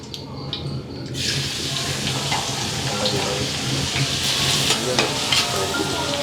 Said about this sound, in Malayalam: ഇതിലോട്ട് എണ്ണ ഒഴിച്ചു നമുക്കിനി ഇതിലോട്ട് കുറച്ച് വെളുത്തുള്ളി ചെറുതായിട്ട് അരിഞ്ഞെടുപ്പിച്ചിരിക്കുന്നത് ഇടാവേ